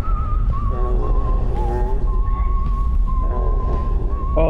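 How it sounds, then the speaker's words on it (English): Eerie whistling tones drift and bend in a horror video game, sustained melodic lines layered over a dense, rumbling ambient drone that stays loud throughout. "Oh, that whistling."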